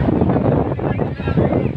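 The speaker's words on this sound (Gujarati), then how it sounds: "આજે પવન પુષ્કળ હોવાથી મોજાનું ખૂબ ઉછાળ છે" Strong wind buffets the microphone at Dabhari beach in Surat, Gujarat, a continuous loud low rumble and roar with rough, high waves on the sea, steady throughout the short stretch.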